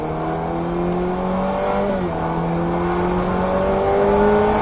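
A Ferrari F8 Tributo engine pulls hard with a rising whine, a brief dip at a gear change, then climbs again, loud and close from inside.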